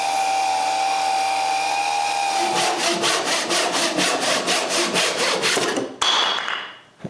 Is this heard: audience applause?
no